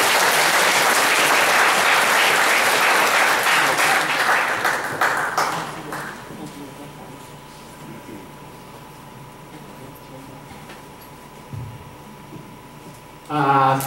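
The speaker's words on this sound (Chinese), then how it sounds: "咱想要掌声来欢迎咱杨议长。" An audience at a university lecture hall applauds to welcome a speaker, loud sustained clapping that fades out midway, leaving quiet room hum before a brief burst of noise at the end.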